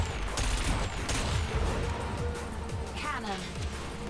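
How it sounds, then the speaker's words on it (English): Cannons fire in the futuristic racing video game Wipeout Omega Collection, a rapid volley of sharp shots layered over engine whine and electronic effects, with a voice talking over the gameplay. "somebody shooting cannons at me"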